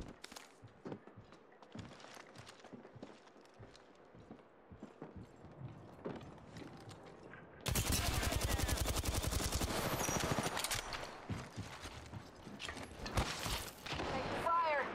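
Gunfire in the video game Apex Legends, with scattered distant shots and footstep-like clatter at first, then a sudden loud burst of sustained automatic fire that continues to the end.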